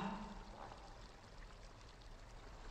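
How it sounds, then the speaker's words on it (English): Steady rushing water from a waterfall in the video game Prince of Persia: The Two Thrones, a continuous faint wash of pouring, splashing flow with no talk over it. "That was a waterfall, not a crack."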